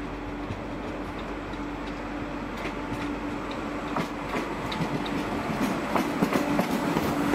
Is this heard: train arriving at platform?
yes